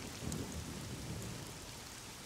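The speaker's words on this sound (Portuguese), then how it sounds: "No mato, na tela, barulho de chuva," Steady rain pours through a forest in the video game SCUM, a dense even hiss of drops with a low rumbling undertone like distant thunder, continuous and fairly close.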